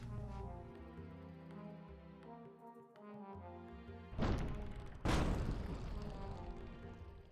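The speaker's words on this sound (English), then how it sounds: "So the cannon shredded him." A cannon fires in a tabletop wargame video game, two heavy booming blasts over ongoing game music, loud and close, a second apart.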